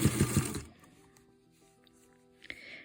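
Sewing machine stitching binding onto a hot pad, a quick rapid run of needle strokes for about half a second, then near-quiet with faint handling clicks and a brief rustle at the end.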